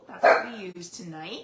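A puppy barks a few times in the background, partly masked by a person talking close to the microphone during an indoor crafting session.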